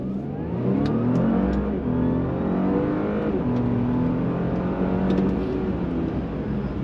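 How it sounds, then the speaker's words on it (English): A 2020 Audi A6 accelerates at full throttle, its loud engine holding a steady roar while the pitch climbs and shifts through gears for several seconds, heard close with no voices. "For all the beans and the marbles, throttle down."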